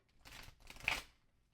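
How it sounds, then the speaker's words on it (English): Thick tarot cards shuffled by hand in two quick bursts of soft riffling and flapping, close and fairly quiet, with no talk. "To be fair, these cards are very thick, but that was a terrible shuffle."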